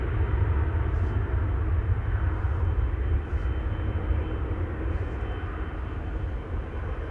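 A turboprop aircraft at Amsterdam Schiphol Airport gives a steady, loud, broadband engine roar that holds constant for the whole stretch, with no voices over it.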